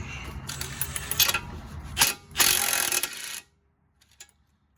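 Wrench work on the front strut nuts of a 2014 Jeep Patriot 2.4, with metallic clicks, scraping and short bursts of tool noise in uneven spurts, then near silence with a few faint taps at the end.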